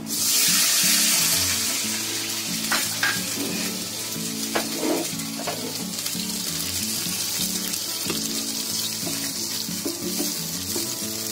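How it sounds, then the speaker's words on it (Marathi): A bowl of water pours into flour, starting with a loud rushing burst close by. Softer kitchen clatter and a steady background hiss follow, with no talking. "आता याच्यामध्ये 1 वाटी पाणी घेते."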